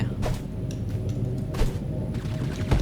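Several soft, muffled silenced gunshots in the game Totally Accurate Battlegrounds, scattered over a steady low rumble of game ambience, spaced irregularly and fairly quiet.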